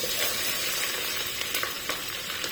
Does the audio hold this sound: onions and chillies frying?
yes